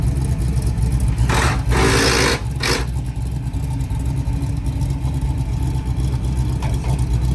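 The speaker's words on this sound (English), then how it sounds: "It sounds like a whole different car." A car engine idling with a low rumble, then revved in a couple of short bursts before settling back; no voices.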